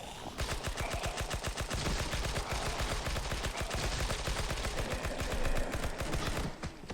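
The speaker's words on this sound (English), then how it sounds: "And then take out any remaining with your SMG." Rapid, continuous submachine-gun fire from the video game Heaven Dust 2 rattles loudly and steadily for several seconds, with no gaps or talking.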